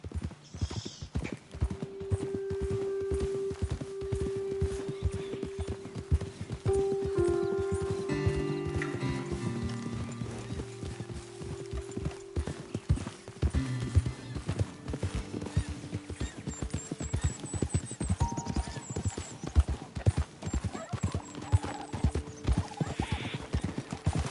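Horses walking in Red Dead Redemption 2 with steady, close clip-clopping hooves throughout, an occasional neigh, music underneath and talk in places.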